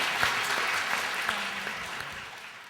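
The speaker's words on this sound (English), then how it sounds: "Can we have another round of applause for our presenters during this?" Audience applause for panel presenters at a lunchtime break, a dense steady round of clapping that slowly fades toward the end.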